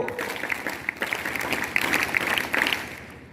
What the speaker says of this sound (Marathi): एकदा त्यांना टाळ्या वाजवून आपण त्यांचं अभिनंदन करूया